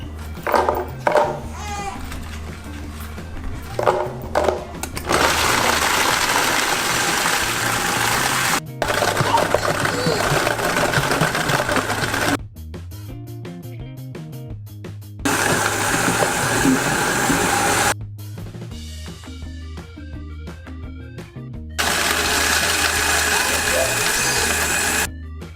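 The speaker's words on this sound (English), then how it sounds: "We're gonna blend all of these up to make it into like a thin little mixture." An electric blender grinding Oreo cookies into a thin mixture runs loud and close, with the motor cutting between full whirring bursts and quieter pulsed stretches.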